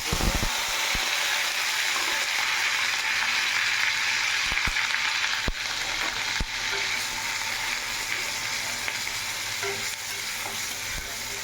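Onions frying in hot oil in a wok on low flame, a continuous close sizzle punctuated by sharp scraping and clicking stir strokes.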